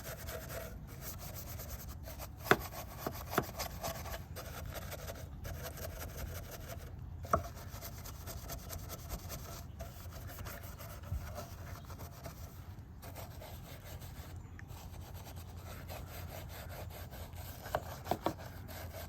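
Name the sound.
scrubbing the fuel fill area of a 1991 Honda CRX Si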